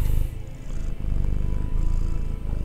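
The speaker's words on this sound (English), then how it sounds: "The moment you put your hand on him, he'll start purring." A large male cat purrs close up while being petted, a low, continuous rumbling pulse running steadily throughout with no talk over it.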